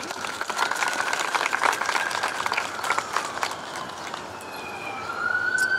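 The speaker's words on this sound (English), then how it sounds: "round of applause again for Asad Turfi." An outdoor crowd at a city fitness court grand opening in Lincoln Park claps steadily for several seconds, a moderate spread of applause that thins briefly before picking up again.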